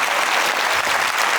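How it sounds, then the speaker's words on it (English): Conference audience applauding at an employer branding event on a big stage: dense, steady clapping from a large crowd, loud and close, filling the whole short stretch without talk. "And applause."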